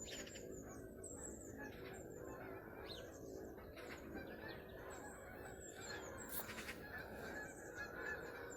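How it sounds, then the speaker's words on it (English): Geese honk repeatedly at a distance over an allotment, a loose chorus of calls passing overhead against a steady outdoor hum. "the geese are coming over"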